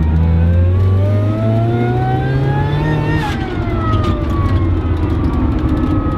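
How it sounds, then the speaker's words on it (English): A supercharger on a lifted Mazda Miata whines loudly and steadily, its pitch climbing as the engine revs up, then dropping off briefly before settling back to a high, continuous whine over the engine's deep drone. "The supercharger is so loud on this car"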